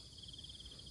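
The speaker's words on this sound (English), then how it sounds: "the Cicada." A cicada buzzes in a steady, continuous high-pitched drone, close and unbroken throughout, during an outdoor hunt for insects.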